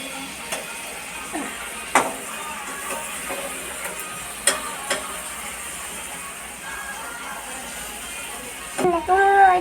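Meat is stirred in a cooking pot over a steady low sizzle, with occasional sharp clinks and scrapes of the utensil against the metal, while a voice talks nearby.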